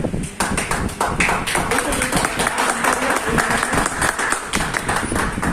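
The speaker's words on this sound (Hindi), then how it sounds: "भानु सर के लिए एक बार जोरदार तालियां" Hearty audience applause at a motivational business gathering, a dense wash of many hands clapping steadily at close range throughout, with no speech over it.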